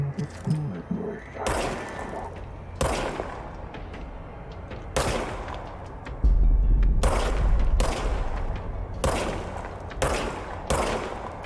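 Repeated shots from the service weapon in the video game Control ring out in separate loud bursts, about nine over several seconds with brief gaps, over a low rumbling game backdrop.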